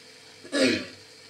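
A single short throat clearing, close and fairly loud, against a quiet background.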